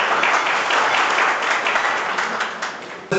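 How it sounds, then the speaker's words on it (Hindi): An audience at an honour ceremony in Sujangarh claps to welcome a ward councillor guest, a loud, full wash of applause held steady for about three seconds before cutting off abruptly. "उनका स्वागत तालियों से कीजिए।"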